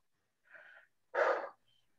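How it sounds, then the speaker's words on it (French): Two breaths pushed out during a tai chi session, a softer airy exhale followed by a stronger, fuller one, close and isolated in an otherwise quiet room. "Prenez le temps de bien souffler."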